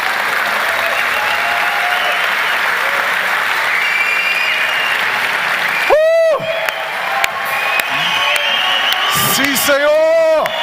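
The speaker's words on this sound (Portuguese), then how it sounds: "Vamos abençoar Jesus com um aplauso" A church congregation applauds loudly and steadily, with whoops and cheers rising over the clapping and someone shouting over the crowd in bursts.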